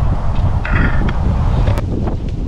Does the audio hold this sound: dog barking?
no